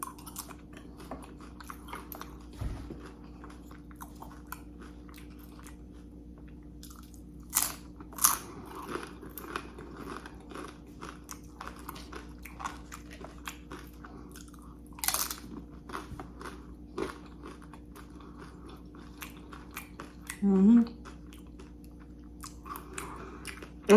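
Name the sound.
chewing chili cheese nachos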